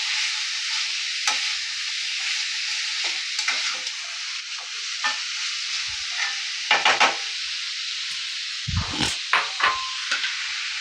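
Chicken mince sizzles in an even, continuous hiss in a pan, broken by scraping stirs and a few sharper knocks of the spoon against the pan, with no talking.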